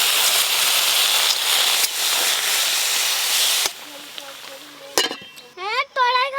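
Water poured into a pan of frying whole spices, cardamom, cloves, turmeric, coriander, Kashmiri chili powder and salt, erupts in a loud hissing sizzle for several seconds, then dies away as a voice starts talking.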